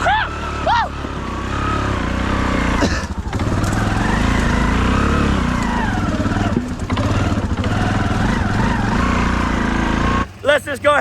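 A Honda Fourtrax 300 6x6 ATV engine labors loudly and close as it climbs a rough hill, its revs rising and dipping under strain, with short exclamations from a rider at the start and end.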